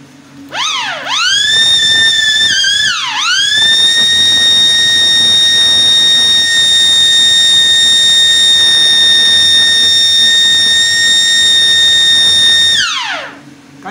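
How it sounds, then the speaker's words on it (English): A power alarm siren wired to a timer blares loudly and continuously for about ten seconds, a steady electronic wail with brief pitch dips near the start and a falling tail as it cuts off. "So that is just exactly how to connect a power alarm."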